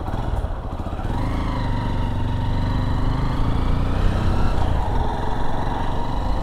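A new motorcycle engine runs steadily nearby at a low, rumbling idle with a constant throbbing tone, loud and alone with no voices.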